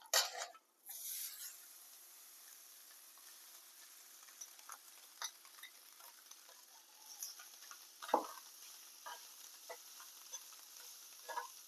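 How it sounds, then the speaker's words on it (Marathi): Rice with salt and turmeric being stirred in a pan, a soft, steady scraping and faint sizzle at low level, with a sharper clatter near the start and a few light knocks along the way; no one speaks. "भात ढवळून घ्यायचा आणि थोडा लिंबू पिळायचा"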